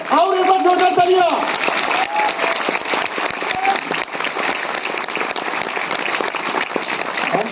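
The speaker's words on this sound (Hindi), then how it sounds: "और एक बार जोरदार तालियां।" Loud, dense audience applause fills a hall at a Delhi program of the Indian Railways goods shed workers' union, continuing steadily throughout after a brief voice at the start.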